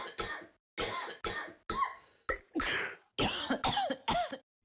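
A run of repeated coughs, loud and close, in bursts separated by brief pauses, heard in a Spanish-language Robitussin cough medicine advertisement.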